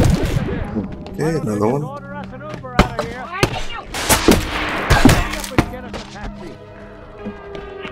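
Alien gunfire in the VR game Bonelab, loud sharp shots in rapid irregular bursts, mixed with thuds and a voice speaking briefly.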